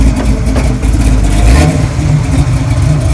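A 1973 Dodge Challenger's 440 Six Pack V8 revs loudly and steadily, its deep rumble swelling midway before settling back into a rough, throaty growl.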